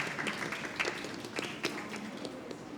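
Audience applause after a live reggae band performance, a steady patter of hand claps with a few sharper claps standing out, fairly faint and continuous.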